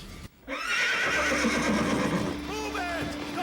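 Horses neigh loudly in an animated battle scene, a shrill whinny rising over rumbling background noise after a brief sharp cut, with clattering and commotion beneath.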